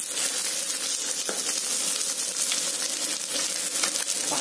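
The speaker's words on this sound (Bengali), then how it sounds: "মা এখানে ট্যাংরা মাছগুলো ভাজছে আর বিশাল ফটফট করে ফাটছে" Small tangra fish fry in hot oil, a dense continuous crackling hiss with scattered sharp pops and spits, close and steady throughout with no voices.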